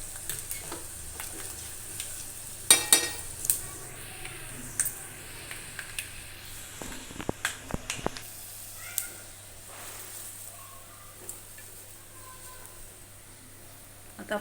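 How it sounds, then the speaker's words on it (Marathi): Garlic and turmeric tempering sizzling in hot oil for Diwali chivda, a soft steady frying hiss punctuated by stirring clicks and scrapes, with occasional speech nearby. "चला मग आपण फोडणी देऊ."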